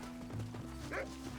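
Horse hooves clip-clop at a steady trot in the Red Dead Redemption video game, moderately close over a low, droning tonal game background.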